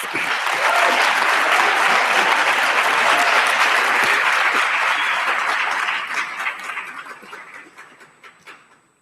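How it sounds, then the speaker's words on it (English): An audience at a university graduation ceremony claps in a loud, dense burst of applause that holds steady, then thins out and fades over the final few seconds. "It is your moment, graduates, to a round of applause for all who have supported you over the years."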